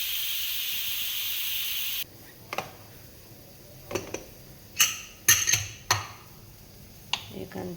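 A pressure cooker cooking dal vents steam in a steady loud hiss for two seconds, then cuts off, leaving scattered clinks and metallic knocks of the lid and pot nearby.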